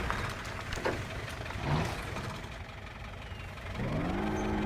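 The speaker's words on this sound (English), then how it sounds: "Is that the Land Rover engine starting up" Land Rover engine running in the off-road driving game Spintires MudRunner, a steady low mechanical drone that holds throughout and rises in pitch with a revving whine toward the end, alone without talk.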